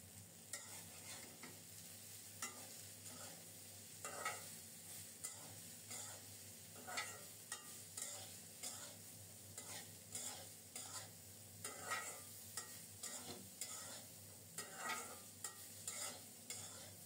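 Yardlong beans go into a pan with turmeric, salt and fried coconut, giving a soft sizzle and repeated scraping stirs of a spatula in a regular rhythm, close and quiet, with no voices.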